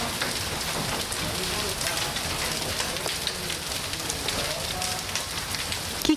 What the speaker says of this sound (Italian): Chicchi di grandine come palline da tennis scese dal cielo sopra la Marca intorno all'ora di cena